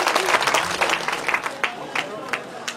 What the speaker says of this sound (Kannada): ಜೋರಾಗಿ ಚಪ್ಪಾಳೆ ತಟ್ಟುವುದರ ಮೂಲಕ